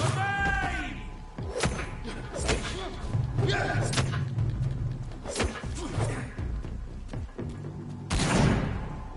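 Gunfire from the video game Vampyr punches through a brick wall in a series of heavy thuds and impacts with whooshing debris, loud and uneven, mixed with game voices.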